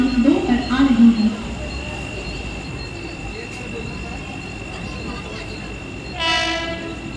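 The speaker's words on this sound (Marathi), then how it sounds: "प्लॅटफॉर्म क्रमांक 2 वर आलेली लोकल 7:01 मुंबई छत्रपती शिवाजी महाराज टर्मिनसला जाणारी धीमी लोकल आहे" A Mumbai slow local train, bound for Chhatrapati Shivaji Maharaj Terminus, pulls into platform 2 of a station at night with a steady rumble, and a loud horn blast sounds near the end. Brief voices can be heard at the start.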